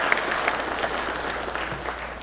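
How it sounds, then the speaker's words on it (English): An audience at an outdoors hall of fame induction ceremony gives Bo another round of applause, a steady wash of many hands clapping at moderate distance, with no voices on top. "Give Bo another round of applause"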